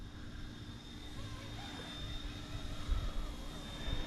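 A ready-to-fly hobby remote control helicopter hovers and flies with a steady high-pitched motor and rotor whine over a broad whooshing hum, fairly close and continuous.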